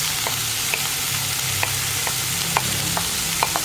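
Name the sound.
onion and cauliflower sautéing in a pan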